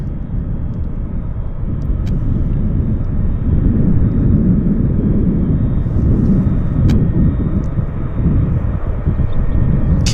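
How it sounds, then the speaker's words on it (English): A KLM airliner taxiing toward the gate at Vancouver's YVR airport gives off a loud, continuous low engine rumble and roar that swells slightly midway, heard from fairly close with faint clicks and no speech. "KLM's pulling into the gate."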